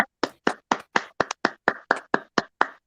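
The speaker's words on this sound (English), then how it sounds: "Another round of applause." A single person clapping hands steadily, about a dozen sharp, close claps at an even rhythm, with no crowd audible.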